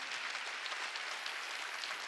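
A church congregation claps during a Wednesday worship service: a faint, distant, steady patter of applause with no voices over it.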